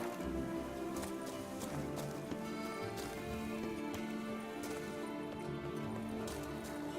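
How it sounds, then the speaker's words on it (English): Horse hooves clip-clopping in a steady galloping rhythm while riding through open country in The Witcher 3: Blood and Wine, continuous and fairly prominent over a quiet backdrop of game ambience. "Have to ride the horse."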